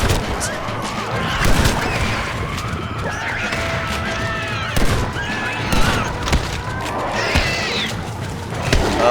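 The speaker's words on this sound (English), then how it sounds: "we haven't used the shotgun in a minute, so we're going to go ahead and do that" Shotgun blasts and other chaotic gunfire in Red Dead Redemption Undead Nightmare, with repeated sharp bangs over a busy, noisy game soundscape with shrieks and clatter, and no voices.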